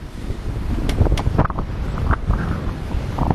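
Force 6 trade winds buffet the microphone aboard a sailing boat, a loud continuous roaring rumble with gusty bursts and flapping, splashy noises from the boat and sea.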